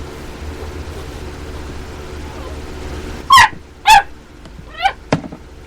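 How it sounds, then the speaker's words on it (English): A puppy gives three or four sharp, high yips close by over a low steady background hum, after a few seconds of quiet. "Little puppy, huh?"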